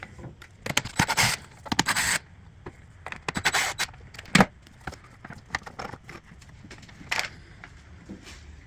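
Cover screws being removed on a 2001–2005 Ford Explorer 4.0L during a water pump job: close, irregular metallic scrapes and clicks of a tool working, in short bursts with gaps, no talk.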